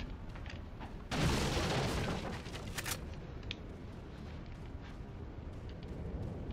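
A bomb blast erupts in Resident Evil 4, a loud broadband burst about a second in that rumbles on for roughly two seconds before settling into lower game ambience with a few sharp clicks.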